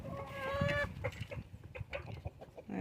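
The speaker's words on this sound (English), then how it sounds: "That is our Rhode Island red rooster" A Rhode Island Red rooster on a homestead clucks nearby in a short string of rhythmic, throaty calls, fairly quiet and outdoors with no talking.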